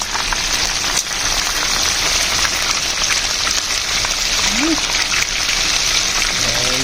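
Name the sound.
chicken wings cooking until crispy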